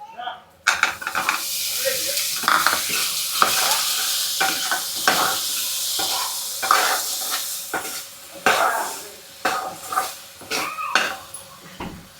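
Potatoes go into a Malvani masala paste frying in a pan. Loud, close sizzling rises and falls with repeated scraping stirs and occasional clinks of a utensil against the pan.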